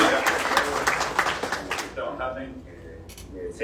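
Clapping from a crowd at an online session of Brazil's Chamber of Deputies rattles for about two seconds, then fades into quieter room noise with a few faint sounds.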